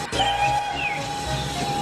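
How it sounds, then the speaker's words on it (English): A cartoon character named Layla blows her loudest whistle, a steady, piercing high tone held for nearly two seconds over a breathy hiss, close and loud. "blew her loudest whistle of"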